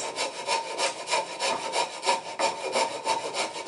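A coping saw cuts steadily through thick wood, with rhythmic back-and-forth strokes about three per second, close and fairly loud, with no voices.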